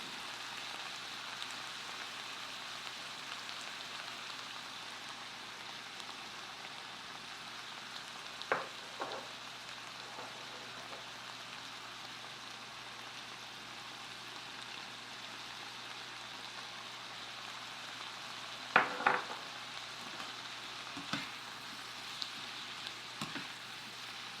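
Green peas and corn sizzle steadily in a hot pan for shrimp fried rice, a constant crackling fry with a few louder spatters and utensil clinks partway through, no talking.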